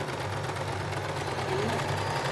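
A sewing machine runs steadily while stitching a design on a printed suit, giving a continuous close-up mechanical whirr with a low humming drive.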